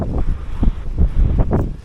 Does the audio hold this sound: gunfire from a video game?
no